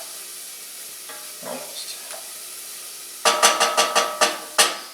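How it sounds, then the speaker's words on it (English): Spices sautéing in a pan for mole sauce, quiet faint sizzling at first, then a run of sharp loud crackling pops in quick succession near the end, with one brief spoken word. "Now we still want to kind of saute, roast, whatever you want to call it, these spices"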